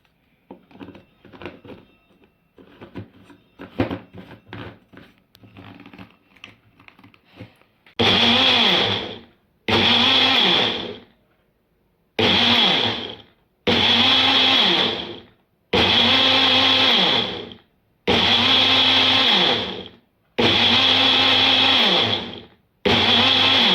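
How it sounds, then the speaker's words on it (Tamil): An electric blender pulses egg and oil into mayonnaise in eight loud bursts of about one to two seconds each, separated by short silences and preceded by some quieter handling clatter. "எட்டுலேருந்து பத்து வாட்டி பல்ஸ் பண்ணி எடுத்துக்கலாம்"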